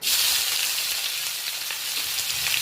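Chopped onion and chilli hit hot oil in a pan, giving a steady, close hiss and sizzle throughout, with no talking.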